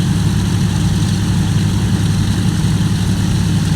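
A DC-3 twin propeller airliner taxiing in Microsoft Flight Simulator X gives off a steady, loud, droning low engine rumble with a constant propeller hum and no pauses.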